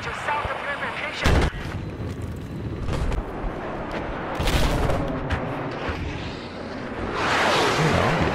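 Gunfire in the military shooter Battlefield 4: heavy, booming shots and distant artillery-like blasts crackle through a dense battlefield din, with a few sharp loud reports standing out and speech mixed in.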